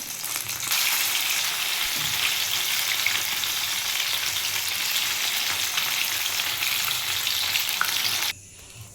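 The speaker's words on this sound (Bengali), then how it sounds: "এই তিনটে মাছ ভাজা হয়ে গেছে আর একটা মাছ ভাজছে" Katla fish frying in hot oil, a loud, steady crackling sizzle heard up close, holding evenly for several seconds before dropping away abruptly near the end.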